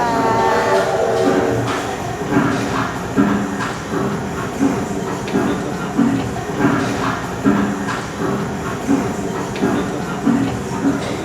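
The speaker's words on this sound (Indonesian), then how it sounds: "Ini kita sekarang naik kereta angkut batubara zaman kuno." Old coal transport train from a 1925-era mining site, crawling at about 3 km/h: loud rhythmic clickety-clack of wheels over rail joints with steady rumble and hiss, and faint voices in the background.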